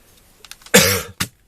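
A single harsh cough burst, close and loud, followed by a shorter second cough, with a few faint clicks just before.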